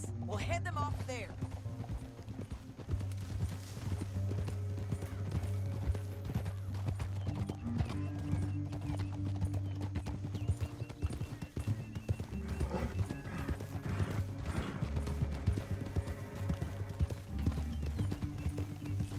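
Hooves pound in a fast, steady galloping rhythm in the video game Red Dead Redemption 2, with a horse whinnying and a low rumble of movement throughout.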